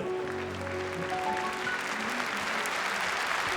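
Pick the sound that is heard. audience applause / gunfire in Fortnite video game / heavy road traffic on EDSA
audience applause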